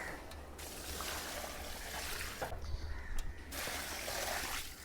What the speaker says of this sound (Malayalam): ഇനി ചിക്കൻ വേവാൻ ആവശ്യമായിട്ടുള്ള വെള്ളം ഒഴിച്ചു കൊടുക്കാവേ